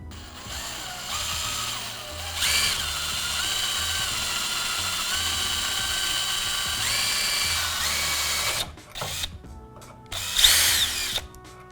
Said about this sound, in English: So now we hit it with a drill, and hopefully we don't punch through too hard.